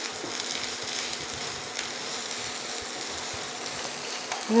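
Ground cumin, Kashmiri red chilli and hot spice mix sizzle in a pan for aloo dum, a steady close crackling hiss that swells slightly at the end.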